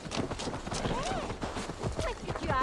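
Horse hooves trotting in Assassin's Creed Valhalla, a steady clip-clop rhythm running close under continuous talk and a brief whinny-like call.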